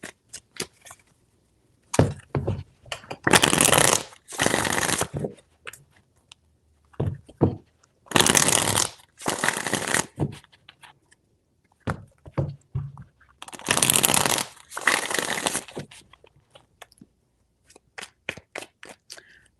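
Three bursts of tarot cards being riffle-shuffled, each a dense rustling flurry separated by quieter taps and pauses, close and clear.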